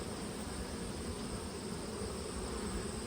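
Honey bees hum around busy hives as foragers fly in, a faint steady buzzing drone with no pauses throughout.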